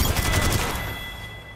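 A rapid burst of gunshots in the Apex Legends battle royale game, loud at first and then trailing off into a fading ring and echo.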